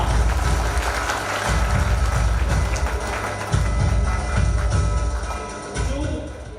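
A crowd at an STFI Maharashtra unit gathering in Mumbai claps loudly and densely throughout, a full, sustained wash of applause with heavy low thumps underneath.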